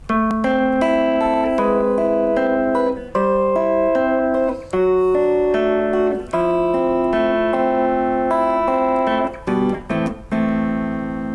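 A guitar plays an intro as a steady, sustained sequence of picked notes and chord tones with clear, ringing pitches, heard alone and fairly loud with brief gaps between phrases.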